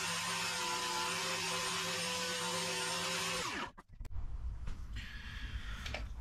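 Power tool sanding scrap wood runs steadily with a loud whining drone for several seconds, then stops abruptly and leaves quieter clatter and handling noise in the workshop.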